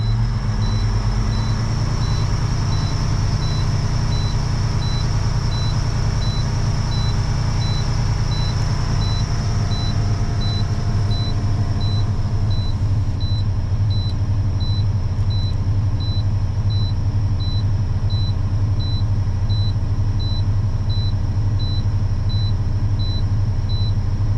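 A semi truck's diesel engine runs loud and steady close by, revved to build transmission air pressure while the semitrailer is being unhooked, with a faint, evenly repeating electronic beep over the continuous drone.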